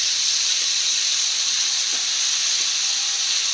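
Garlic paste sizzling in a hot pan with dried chilies and bay leaves, a steady bright hiss that holds evenly for a few seconds with no talk.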